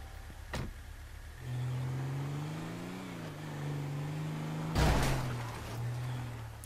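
A stolen car's engine hums steadily and then revs up, its pitch rising and falling in GTA 5 Online, preceded by a sharp click and broken by a loud thump partway through.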